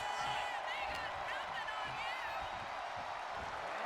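Continuous arena crowd noise in the WWE 2K25 wrestling game during a Randy Orton match, a steady wash of cheers with scattered whoops and clapping, fairly faint with indistinct voices mixed in.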